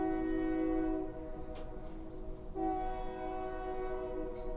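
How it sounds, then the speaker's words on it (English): A train passes nearby with a sustained, steady horn-like tone that swells twice, while crickets chirp rhythmically in the background. "Of course, the train's going by."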